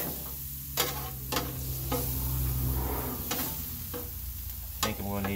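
Spaghetti sauce is stirred on a hot 22-inch Blackstone griddle: a soft, constant sizzle runs throughout, broken by several sharp scraping strokes of the utensil, close up.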